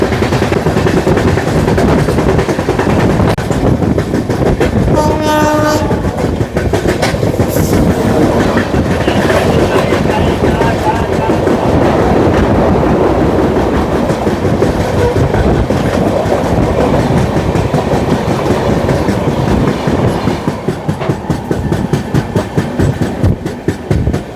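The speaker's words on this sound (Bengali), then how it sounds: "এবার আমাদের সঙ্গে দেখা হচ্ছে হাওড়া নিউ জলপাইগুড়ি শতাব্দী এক্সপ্রেস, 12042 শতাব্দী এক্সপ্রেস।" The Howrah–New Jalpaiguri Shatabdi Express 12042 runs close by with a loud, steady rumble and rhythmic clickety-clack of wheels on the rails, a brief tonal sound rising early on, and the roar continuing to the end.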